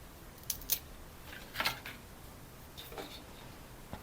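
Scissors snipping yellow leaves off a pothos plant during trimming: a few quiet, crisp cuts in small clusters, spaced out against a faint room background.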